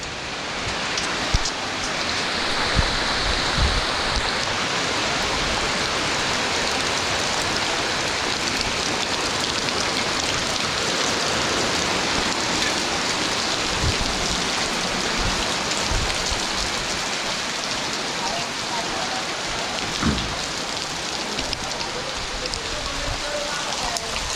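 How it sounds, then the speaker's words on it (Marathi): Heavy rain pours steadily on a village in Kokan, Nagaon near Mahad, a dense continuous hiss that stays loud throughout with a few faint low knocks underneath. "पाऊस जोरात आला"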